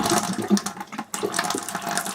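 Hot water running from a caravan tap in an Elddis Mistral Vogue SE two-berth caravan, a close splashing gush into the sink with a brief sputter of air partway through before the flow resumes.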